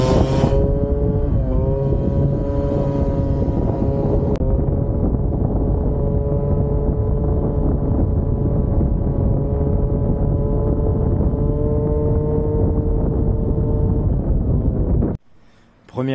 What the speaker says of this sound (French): le moteur gueulait pour atteindre 45 km/h